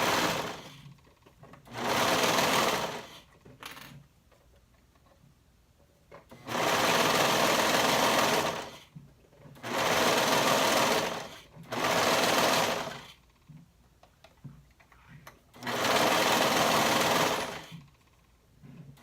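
A sewing machine stitches a flutter sleeve to a bodice with a 1/2 inch seam allowance, running in five distinct bursts of steady whirring separated by quiet pauses.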